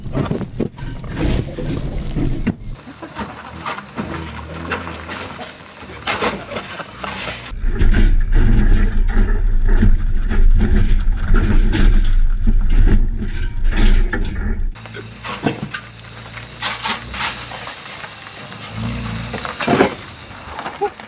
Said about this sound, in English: with this style of car, are you meant to be hearing that much noise as the car crashes over the road?